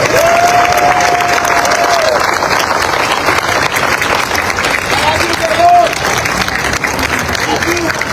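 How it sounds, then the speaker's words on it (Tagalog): A crowd of fellow government employees breaks into loud, sustained applause with some cheering at a Manila city gathering, the clapping constant throughout while a voice talks over it. "pwede bang yung pinakamalakas nyong palakpak para sa kanila"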